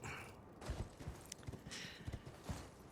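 Horse hooves galloping in the video game Elden Ring, a rapid run of clopping hoofbeats at a steady rhythm, fairly close and moderately loud, with no talk.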